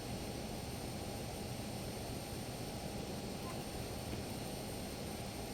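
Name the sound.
LearJet engine spooling in a flight simulator video game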